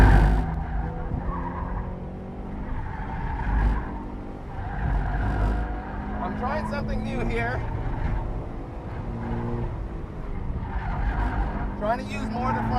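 A 2015 Subaru BRZ on an autocross course squeals and skids its tires repeatedly while the engine revs and shifts up and down, with a driver talking over the noise inside the car throughout.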